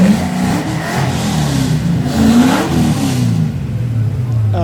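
Ex-Leyland Australia Triumph TR7 V8 car engine revving loudly and close, a deep throaty rumble that rises and swells, then drops back to a lower note.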